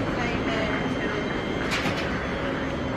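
A steady, dense rumble fills a cold railway station platform in England as a train sits or moves nearby, with voices faintly present underneath.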